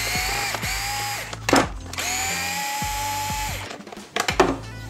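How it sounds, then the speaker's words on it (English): A power drill drives screws into the body of a Losi Super Baja Rey 2.0 large-scale RC truck, with several close, loud whirring bursts that rise and stop, separated by short clicks and handling knocks. "you got to make sure you've got some power tools handy, because doing these screws by hand is going to take forever"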